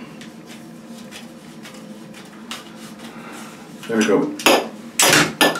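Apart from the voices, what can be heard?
ratchet PVC cutters cutting PVC pipe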